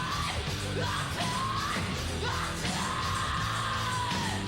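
A loud, sustained yell rings out inside a played entrance theme song, layered over driving music, with the scream rising and bending in pitch across several seconds and no talk over it.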